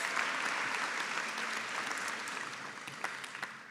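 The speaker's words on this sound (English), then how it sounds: "So a big round of applause for all our candidates from the Graduate Certificate in Autism Studies." Sustained applause from a graduation ceremony audience honoring candidates of the Graduate Certificate in Autism Studies, a steady broadband wash of many hands clapping that fades slightly toward the end.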